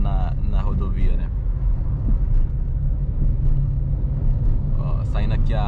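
A 2023 Fiat Pulse Audace 1.0 turbo accelerates onto a highway, its engine a steady low rumble with road noise filling the cabin, while brief bursts of nearby sound come and go at the start and end.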